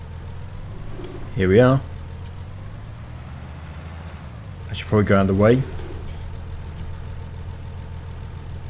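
A tractor engine drones steadily close by while driving and idling in a survival roleplay video game, with someone talking over it in two short bursts.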